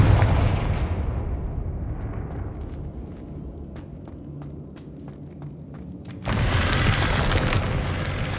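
A Confringo spell blast from Hogwarts Legacy opens with a loud boom that rumbles and fades, followed by scattered small clicks, then a second broad burst of noise near the end.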